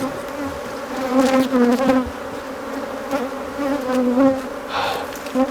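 Feral honey bees swarm and buzz steadily around an opened hive, a dense, close drone with wavering pitch that swells and fades as individuals pass near, while occasional voices murmur faintly in the background.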